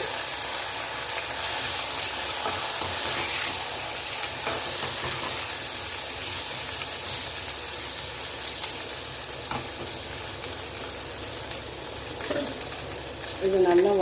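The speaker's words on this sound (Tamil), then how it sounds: "பூண்டு பாதி வதங்கணுன்னா நம்ம நறுக்கி வச்ச சாம்பார் வெங்காயம்," Steady broadband sizzle of garlic and sambar shallots sautéing in a pan, with occasional stirring scrapes and no voices.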